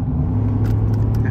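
Steady low rumble of a 2020 Ford F-150 with the 5.0 V8 and 10-speed, high-mileage, idling close by with a constant even drone and no talk over it.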